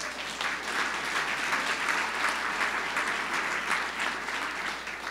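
Audience at a history-preservation gathering applauding, a soft, steady wash of clapping from a sizeable crowd heard from a distance, unbroken for several seconds with no talk.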